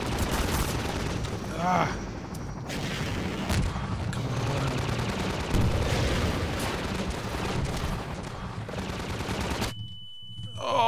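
Half-Life 2 combat with bursts of automatic gunfire and booming impacts over a dense game soundscape, a player's brief exclamation heard near the start before the noise cuts away to near silence at the end.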